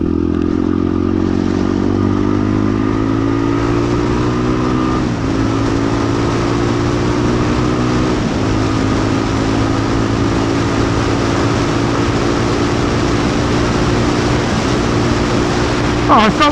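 A Bullit Hero 250 motorcycle is ridden at a steady pace, its engine droning loud and close with a constant buzzing hum and slowly rising tones as it pulls through gears, masked by heavy wind rush.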